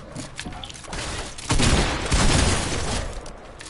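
Dense automatic gunfire from a Fortnite match, a continuous rattling burst that swells louder midway and keeps going to the end, heard close with no talking over it.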